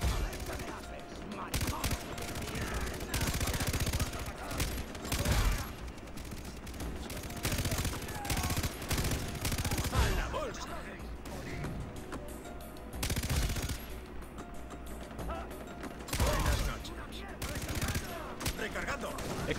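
Long sustained minigun fire in the Far Cry 3 shooter game, with dense, continuous rattling bursts and brief pauses, loud throughout, while players chat over the shooting.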